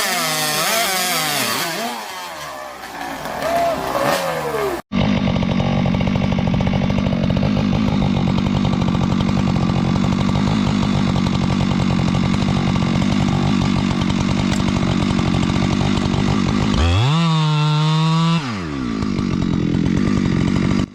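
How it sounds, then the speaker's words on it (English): A chainsaw roars steadily at close range while cutting into a tree trunk, with brief revving changes at the start and near the end. "The chainsaw is in full command, roaring with power, its spinning blades slicing deep into the trunk"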